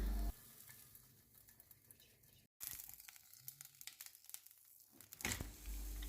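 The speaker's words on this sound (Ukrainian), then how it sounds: "На розігріту петельню наливаємо приблизно 3 ложки олії." Oil sizzles and crackles steadily in a pan as a Ukrainian palianytsia flatbread fries in about three spoons of oil, with a brief cut partway and a louder clatter near the end.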